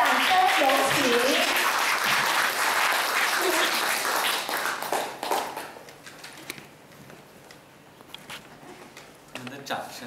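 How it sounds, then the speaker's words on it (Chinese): Warm audience applause welcoming a professor, head of a Chinese classical studies institute, at a course gathering: loud, dense clapping for about five seconds, then fading to scattered claps and room noise. "以最热烈的掌声来欢迎我们的中华国学研究院院长张卜生教授，掌声有请"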